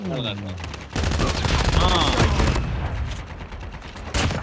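Gunfire rattles in a shooter video game, dense rapid bursts of automatic fire that run continuously for several seconds, loud and close, with a final sharp shot after a short pause and a voice speaking over the shooting.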